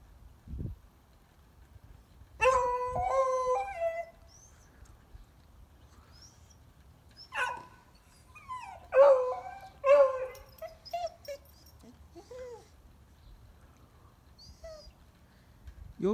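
A dog howls and whimpers in short bursts spread through the recording, high wavering cries rising and falling over a quiet background, with gaps of near silence between.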